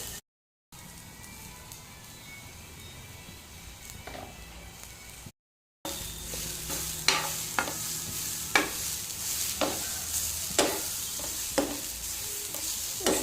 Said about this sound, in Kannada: ಇಲ್ಲಿ ನೀರುಳ್ಳಿ ಫ್ರೈ ಆಯಿತು ಇದಕ್ಕೆ ಕಾಯಿ ತುರಿ ಹಾಕ್ತೇನೆ